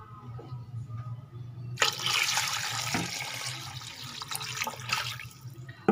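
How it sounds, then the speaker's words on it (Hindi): About 3 kg of water poured into a large cooking pot while making paya, a sudden loud rushing splash that starts after a quiet hum and continues steadily to the end. "मैं इसमें 3 किलो पानी डालूंगी"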